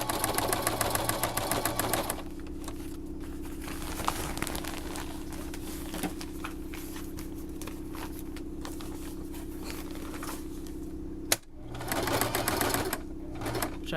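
A sewing machine runs a straight stitch around a baby changing mat, a rapid close mechanical whirring and ticking in two bursts separated by a longer stretch of quieter steady motor hum.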